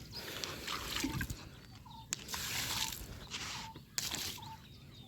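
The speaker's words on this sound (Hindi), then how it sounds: "जैसे मैंने पानी डाला ना, तो आवाज़ पता कैसी आ रही है? सी सी टाइप की।" Water poured onto packed soil on a terrace garden soaks in with a soft, continuous hiss and fizz, rising and falling over a few seconds with faint clicks.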